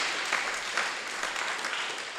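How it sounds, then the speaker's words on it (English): An audience breaks into a brief, dense round of clapping that stays steady and fairly close for its whole short length. "that's worth a round of applause"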